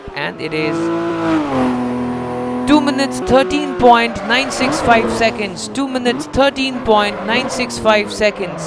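A 2012 Porsche 911 GT2 RS engine in Forza Motorsport 4 at the Nurburgring GP circuit, loud and close, revving and rising through gear shifts with rapid pitch sweeps, while someone talks over it.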